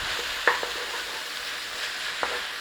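Pork, apple and Dijon mustard stirred together in a hot pan, a steady low sizzle with a few soft scrapes and clicks of the spoon, close and without talk.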